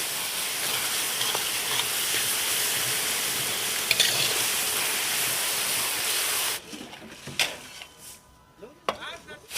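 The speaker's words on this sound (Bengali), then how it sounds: "পেঁয়াজ আর রসুনটা আবারও একটু আমি কষিয়ে নেব" Onion and garlic paste fries in a pan for a chicken curry with a dense, loud sizzle that cuts off after several seconds, then a few sparse scrapes and stirring knocks follow in near quiet.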